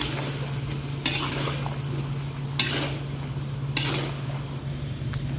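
Ivy gourd and potatoes frying with salt and turmeric, a soft steady sizzle under a constant low hum, broken by a few sharp scraping stirs at regular intervals.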